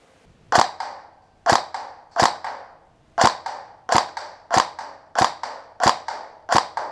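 An older Tokyo Marui 416 airsoft rifle fires about ten sharp, snappy shots at a taped paper target, each a crisp crack with a short decay, in an uneven semi-automatic rhythm, close and loud.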